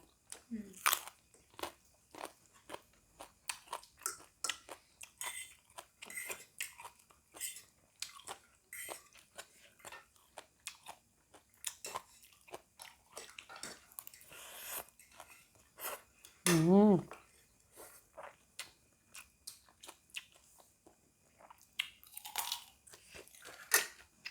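Someone eats crunchy food with cutlery, a meal of spicy Korean instant noodles with sausage, fresh vegetables and boiled egg, making close, repeated crisp bites and chewing crunches with occasional clinks of utensils against a dish.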